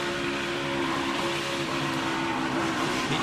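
A Ford race car engine roars steadily in a loud, sustained onboard drone at the Daytona 500, holding a dense tone throughout with little audible drop as the driver begins to lift; no talk.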